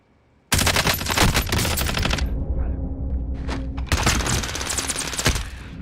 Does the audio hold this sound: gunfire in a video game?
yes